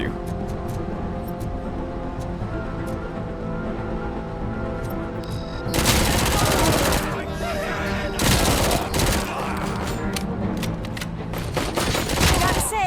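In the video game RoboCop: Rogue City, bursts of rapid gunfire break out in several loud clusters in the second half after quieter game ambience. A player talks between and over the shots.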